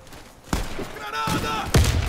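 Grenade blasts in the Free Fire video game land as two short, muffled booming thuds a second apart, fairly close, amid game noise.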